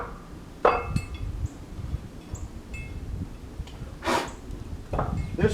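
Metal bolts for sawmill rollers clink and knock as they are handled, giving a few sharp, close metallic impacts scattered over quiet background rustling.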